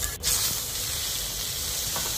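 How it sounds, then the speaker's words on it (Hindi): Chili and garlic tempering sizzles in hot oil while taro leaf curry is cooked, a steady close hiss of frying that stays even throughout, with a brief sharper crackle at the start. "और इधर मिर्चाई भी डाल दी है और इधर लहसुन भी दे दी है, अब इसका छौंका लगाएगी"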